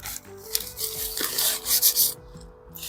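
Soil for a repotted plant is scooped and shifted, producing short gritty scraping and rubbing sounds close by, in uneven bursts with brief pauses between them.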